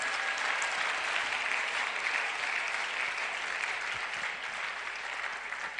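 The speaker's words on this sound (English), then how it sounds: "Please clap for him." Dense, steady applause from an audience at a youth dialogue event in Ghana's Central Region, many hands clapping together continuously for several seconds at an even, full level.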